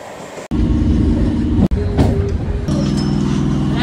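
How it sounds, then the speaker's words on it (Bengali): Inside a moving local train bound for Howrah station, a loud continuous rumble and droning motor hum fill the carriage, broken by two abrupt cuts. "এখন এই ট্রেনে করে যাচ্ছি হাওড়া রেলওয়ে স্টেশন।"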